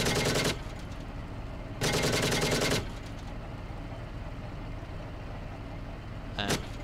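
Leopard 2A4 tank guns in a video game firing in two long, loud sustained bursts, then a short final burst, over a steady rumbling engine bed.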